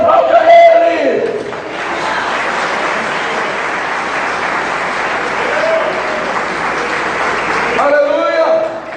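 A church congregation bursts into loud, continuous applause mixed with cheering, a broad wash of clapping that lasts several seconds while a preacher's voice is heard at the start and end.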